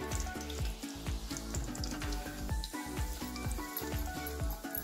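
Whole spices frying in hot oil for an egg curry gravy, a crackling sizzle with repeated sharp popping bursts in a fairly even rhythm, heard over a background of musical tones.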